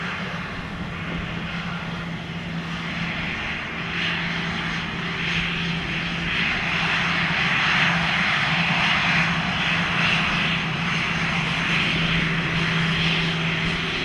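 Airliner engines of an Air Transat jet hum steadily at Montego Bay airport in Jamaica, a continuous whine and roar holding near the runway and swelling slightly midway.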